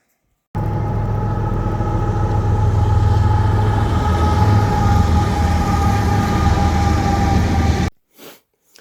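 Train rolling past on tracks across the valley from a snowy chalet terrace, a steady loud rumble with a tonal hum that runs for about seven seconds, then cuts off abruptly.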